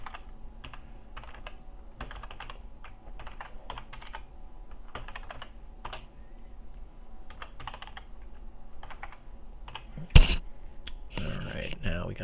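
Rapid clacking of a computer keyboard as someone types in bursts, close by, ending with a sharp tap and a brief rustle.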